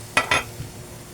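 Stirring onions in hot oil in a pan for sautéed chayote, two quick sharp metallic utensil clinks on the pan followed by a faint sizzle, with no voices.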